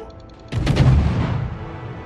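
An enemy cruiser fires its artillery at the player's ship in World of Warships: one sudden, heavy cannon boom breaks a quiet moment, then rolls away into a long, fading rumble.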